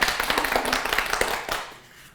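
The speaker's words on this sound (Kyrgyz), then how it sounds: "Кол чабуулар." Audience applause from a Kyrgyz TV quiz show, a dense burst of hand clapping that fades out toward the end of the short clip.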